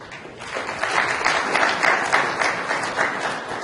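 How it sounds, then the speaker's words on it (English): A conference crowd applauds, starting quieter and swelling into sustained, fairly loud clapping that carries on to the end. "So let's applaud them very well."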